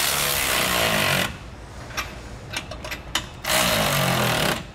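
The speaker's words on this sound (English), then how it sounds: "we can tighten these down using a 19 millimeter socket" A power impact tool with a 19 mm socket drives U-bolt nuts on RV trailer suspension, two loud sustained whirring bursts framing a quieter stretch of light clicks and taps.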